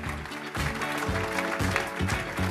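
Audience applause at an eco awards evening, the Néo-Aquitain of the Year prizes, a steady wash of clapping from a seated crowd while music or a voice carries through underneath.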